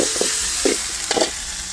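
Pudina chicken masala frying in hot oil for a village-style recipe, a steady close sizzle with short bursts of stirring scrapes, no talk.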